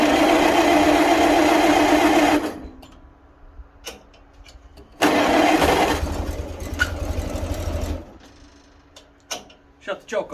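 A Farmall Cub tractor engine cranking and catching in two loud bursts, each cutting off abruptly, with quieter ticking and clicks between and after.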